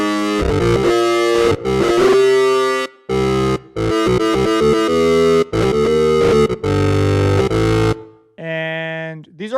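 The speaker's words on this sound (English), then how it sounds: "So I'm bringing the pitch down on the unison, introducing a delay." Harmor synthesizer tone with its unison voices pitched down and a delay effect, playing loud, dense harmonic stabs in choppy bursts that end on a fainter echoing tail.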